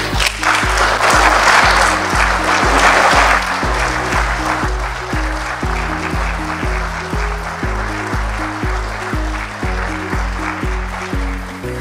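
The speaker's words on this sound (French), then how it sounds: "je veux demander à la plénière d'applaudir très fort" A plenary assembly in the Congo applauds loudly during a session on a drug law, a thick wash of clapping strongest at the start, then thinning under a steady, pulsing musical beat with deep thumps.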